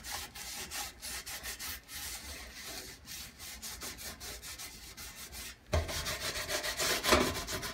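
Wet sponge scrubbing a stovetop with Norwex cleaning paste, with quick rhythmic back-and-forth rubbing strokes, close and fairly quiet, growing louder and harsher toward the end, no talk.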